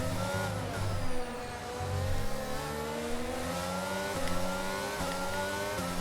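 A racing car engine in an F1-style racing video game, its high revving pitch climbing and shifting through gears with brief dips, loud and steady throughout.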